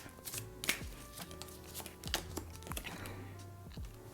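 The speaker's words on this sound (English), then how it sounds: "Let's pull a little bit of a love romance oracle card." Oracle cards are shuffled and pulled from a deck, giving soft, quick papery flicks and taps in an irregular rhythm, faint and close.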